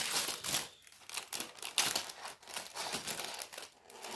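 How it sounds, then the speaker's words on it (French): Paper bags of Lego pieces for a Privet Drive set crinkle and rustle close up in continuous, uneven bursts. "Désolé pour le bruit de papier"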